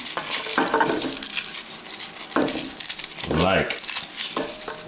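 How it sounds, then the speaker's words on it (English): Garlic bulb being broken apart into a metal bowl, with crackling papery snaps and cloves clinking against metal in irregular bursts, close up, while a voice speaks at times. "just break up your garlic into one of them"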